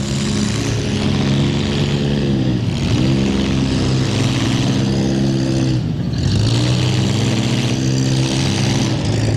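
Derby car engine at a county demolition derby in Ashland County, revving loud and steady with rising and falling pitch, dipping briefly twice before climbing again, with no talk over it.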